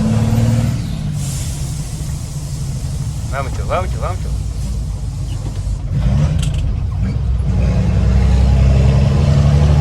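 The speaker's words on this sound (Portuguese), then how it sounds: "Queria mostrar o caminhão carregado para vocês do ronco." A loaded dump truck working in a city centre roars with a deep, steady engine rumble that swells toward the end, while a man calls out encouragement over it.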